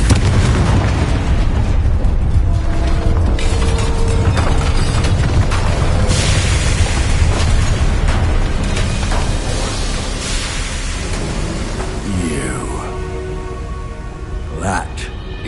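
Confringo blasting curse in Hogwarts Legacy, heavy booming explosions and crackling bursts over combat noise, with speech mixed in.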